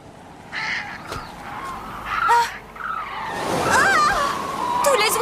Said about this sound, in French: Tous les oiseaux semblent inquiets.